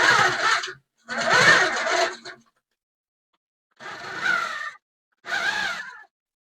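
A longarm quilting machine stitches along a ruler in four separate bursts, each a close, dense mechanical whir about a second long with silent gaps between, and no talking.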